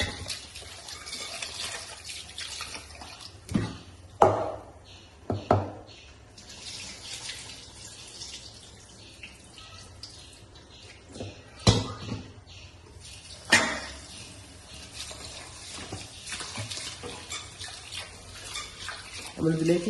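Water splashing and sloshing as one kilogram of kaima rice is rinsed for dum biryani, with intermittent louder pours and swishes over a steady background wash.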